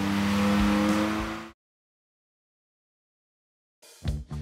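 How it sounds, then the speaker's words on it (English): A Ford F150 EcoBoost or Dodge Ram SRT-10 pickup engine revs loudly and cuts off abruptly, then after a silent gap growls back in short bursts. "this is probably one of the coolest sounding trucks that I've ever got to work on"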